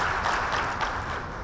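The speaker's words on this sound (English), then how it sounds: "let's give a very good round of applause for him" A conference audience applauds after a presentation, a dense, steady wash of many hands clapping at once, held at an even level throughout without any voices breaking through.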